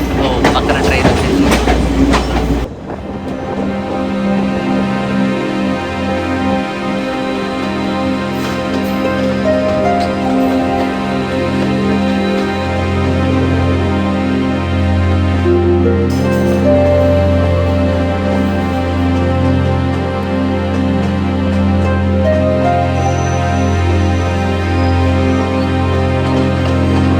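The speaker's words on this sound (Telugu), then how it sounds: "ట్రైన్ స్టార్ట్ అయిపోయింది." A passenger train near Ella, Sri Lanka, rolling steadily with continuous clickety-clack of wheels and a deep rumbling drone heard from inside a carriage, loud and sustained after a brief noisy start.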